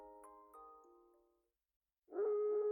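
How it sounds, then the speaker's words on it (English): A single long wolf howl from the video game Raging Loop, rising and holding steady after a brief tonal musical phrase and a moment of silence. "A howl."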